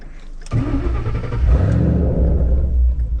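A Ford Mustang GT with stock exhaust and no active exhaust revs hard from about half a second in, a deep throaty exhaust roar that swells and holds loud and close.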